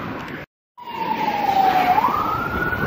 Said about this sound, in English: There's one with the sirens